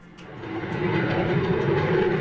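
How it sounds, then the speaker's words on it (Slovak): Loud, steady roar of a General Dynamics F-16 Fighting Falcon fighter jet, a broad engine rush that swells slightly over a couple of seconds with no voices over it. "Toto je General Dynamics F-16 Fighting Falcon, najviac vyrábané vojenské lietadlo v histórii"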